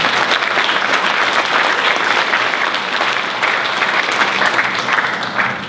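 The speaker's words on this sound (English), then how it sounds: "let's give ourselves a round of applause" Loud, dense applause from an audience at a National Honor Society induction ceremony, sustained and even for several seconds before tapering slightly at the end.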